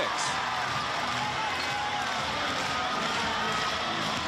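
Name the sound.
basketball arena crowd cheering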